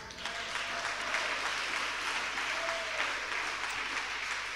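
Steady applause from a church congregation during a French-language worship service, a continuous even patter of many hands at moderate level with no talking over it.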